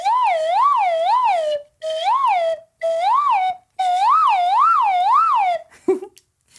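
A slide whistle imitates a fire truck siren, gliding up and down in a steady wail through several loud phrases separated by short pauses, with no talking.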